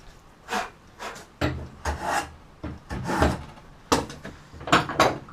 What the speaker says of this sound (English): you can only plane end grain if the blade of your plane is razor sharp